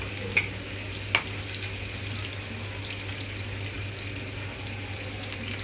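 Sweet corn and onion pakodi frying in oil over a medium flame: a steady, soft bubbling sizzle with a couple of brief clinks near the start, close by and fairly quiet.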